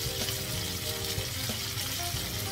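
Shrimp frying in garlic oil in a stir-fry pan, a steady crackling sizzle with watery hiss that runs unbroken and close throughout, with no voices.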